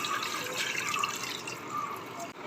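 Water running and splashing into a metal pressure cooker, a steady hollow trickle close by, ending with a brief clunk.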